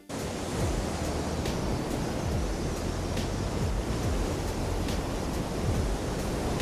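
Wind sound effect from a stock audio library, a steady broadband whoosh that holds constant throughout, with faint gusting swells and a low rumbling undertone, no voices.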